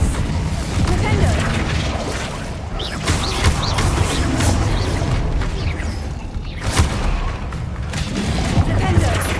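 Spells cast in Hogwarts Legacy, including Incendio, Expelliarmus and Defendo, make a loud, dense run of booms, crackling bursts and crashing impacts in a continuous combat roar, with voices talking over the fight.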